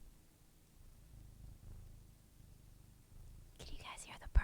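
A faint, low, rumbling purr hums close by, then a soft whisper comes in near the end.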